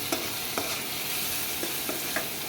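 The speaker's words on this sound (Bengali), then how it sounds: "দিয়ে ভালো করে নেড়ে চেড়ে নিতে হবে" Chinese-style pasta with tomato and salt being stirred in a pan, a steady sizzle under several distinct spatula scrapes spaced through the stretch, close and moderately loud with no talking.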